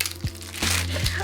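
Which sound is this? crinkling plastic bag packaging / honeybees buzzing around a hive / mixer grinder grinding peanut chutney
crinkling plastic bag packaging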